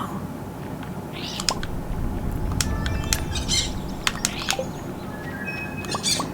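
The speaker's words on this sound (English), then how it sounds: "Look at all the birds." Birds in a farming video game squawk and chirp in sharp repeated calls over a steady background hum, scattered irregularly and fairly loud.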